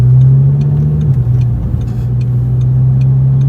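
An Audi R8 V10 with a custom loud exhaust burbles at low revs, a deep steady growl with a slight dip in pitch about a second in.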